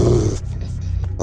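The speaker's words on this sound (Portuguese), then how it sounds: "foi quando se ouviu aquele rosnado atrás dele" An unseen creature's growl serves as a story sound effect, loud and close: a deep, rumbling snarl that breaks off into rough, textured breathy rasps, with no speech over it.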